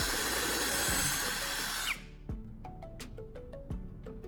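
A step drill bit whirs as it bores a hole through a plastic jar lid, a steady grinding buzz that stops abruptly, followed by several light plastic clicks and taps, quiet and close.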